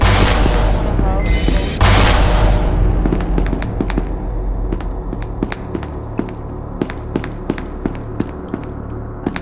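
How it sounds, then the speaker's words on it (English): Gunfire in the video game SCP: Secret Laboratory opens with a loud booming burst, then gives way to a long run of sharp, evenly spaced clicks and taps like footsteps under a dull ambient rumble. "I just heard a gunshot"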